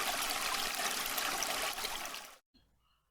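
River Wylye water flowing in a village setting, a close, steady rushing and trickling that cuts off abruptly before a short quiet tail.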